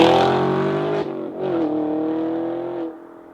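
A 2018 Chevrolet Camaro 1SS 1LE engine holds a loud, rich drone, dips briefly, revs back up, then fades as it pulls away.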